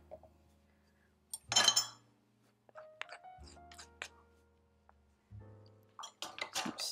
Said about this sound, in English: I'm just gonna put it into the milk so that I can stir it before it goes in the mixture